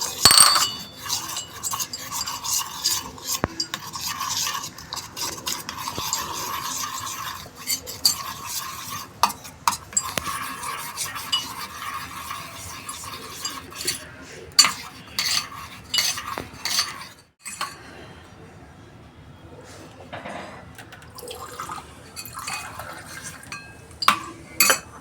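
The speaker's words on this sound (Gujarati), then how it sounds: "એના માટે આપણે આ બેસનને ઓગાળીશું." Gram flour (besan) being stirred into water with a spoon in a pot to dissolve it, a steady scraping and sloshing that continues for a long stretch and fades near the end.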